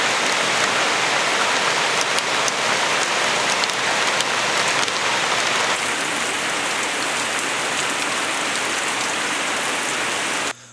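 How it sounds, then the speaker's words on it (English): Steady, heavy rain pours down in a remote Amazon community, a dense, even hiss of drops on surfaces continuing for the whole stretch before cutting off abruptly at the end. "So it was raining all morning"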